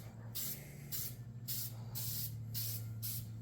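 Spray paint misted in light passes onto a car door panel from a first-generation Chevrolet S10, six short hissing bursts in a steady rhythm over a low steady hum.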